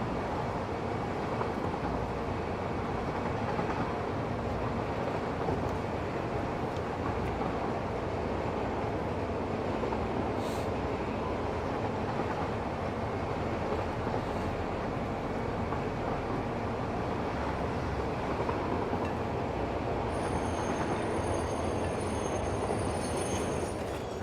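A train runs continuously in a world-building video game, a steady broadband rumble of wheels and rail noise with a faint squeal, sustained and fairly loud with no talk over it.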